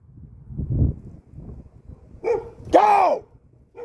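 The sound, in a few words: dog barking aggressively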